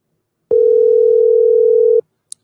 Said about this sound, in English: Let's get Kellen's mom on the phone right now and let this start.